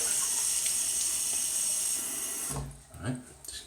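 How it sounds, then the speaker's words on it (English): Tap water runs steadily into a sink as someone wets their face before a shave, a continuous rushing hiss for about two and a half seconds that then cuts off, followed by faint splashing and handling. "let me just get some water on the face."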